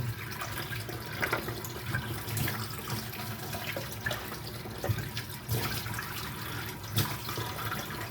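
Water spinach (kangkong) rinsed under a running kitchen tap for adobo, a steady close splash and trickle of water with occasional louder bursts as leaves are moved through the stream, no talk.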